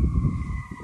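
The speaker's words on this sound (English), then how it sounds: "What's with this siren?" A siren wails steadily in the background at a camping spot, a sustained droning tone layered over low rumbling noise, moderately loud and continuous with no voices.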